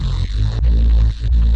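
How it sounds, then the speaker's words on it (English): A synth bass with no resonant filter movement plays deep, steady notes in short repeated pulses about every half second, loud and even in tone, with no voices. "But I got rid of it, and now the bass sounds like this."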